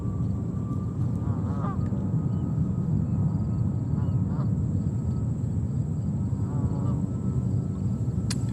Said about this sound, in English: Hear the ducks? They're coming in.